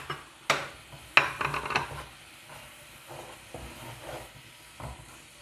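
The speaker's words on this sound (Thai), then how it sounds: "เคี่ยวน้ำตาลน้ำเปล่า น้ำปลา แล้วก็กะปิ เคี่ยวจนรู้สึกหนืดนะคะ" Sugar, water, fish sauce and shrimp paste simmering in a pan for a sweet fish sauce chili dip, with faint bubbling and a few sharp utensil clinks against the pan, quiet and close.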